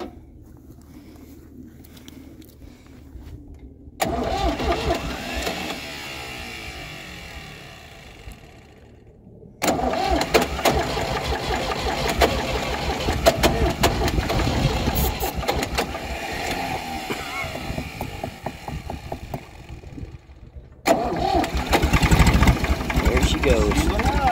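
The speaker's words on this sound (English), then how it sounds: "This is a tractor we don't need a key to start." A tractor engine cranks and catches, then runs with a rough, loud mid-range rumble, cutting out briefly and restarting twice, with some talk in the background.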